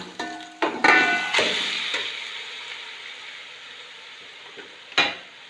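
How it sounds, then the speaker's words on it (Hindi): Chicken stirred and frying in a pan for biryani, a loud close sizzle with several sharp clanks of a spoon against the pan at the start and another knock near the end, without talk. "इसके साथ ही हम इसमें चिकन जो है वो डाल देंगे।"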